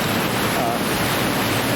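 A waterfall on a springtime creek pours in a loud, continuous broadband rush of falling water, close and unbroken, with no voices over it.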